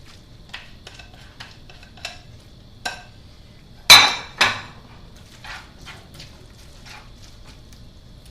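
Egg and pecorino mixture being stirred into spaghetti carbonara, with scattered light clinks and taps of a utensil against the pot and two louder knocks in the middle, over quiet background.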